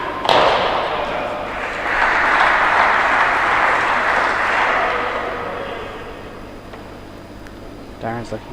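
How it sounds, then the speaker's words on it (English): Crowd at Queen's Club applauds during a darts match, a broad swell of clapping that rises and holds for several seconds before fading, with a voice briefly heard at the end. "See the appreciation from the Queen's Club crowd."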